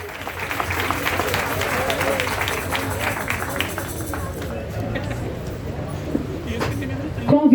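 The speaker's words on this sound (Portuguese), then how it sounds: "Vamos aplaudir essa ação" Audience applause fills the hall at the inauguration of a racial equality centre, a steady sustained clapping that carries under a speaker's voice and fades slightly toward the end.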